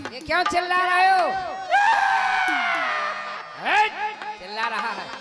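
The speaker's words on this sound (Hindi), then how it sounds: "ये क्यों चिल्ला रहे हो?" A performer on a village Ramlila stage during the bow-breaking and Sita swayamvar scene shouts and wails loudly, with long strained cries rising and falling close to the microphone, then a final pair of sharp yells.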